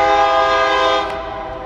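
Norfolk Southern northbound mixed freight train in Marion, Ohio sounds a loud, steady multi-tone horn close by, holding one sustained chord that fades slightly toward the end.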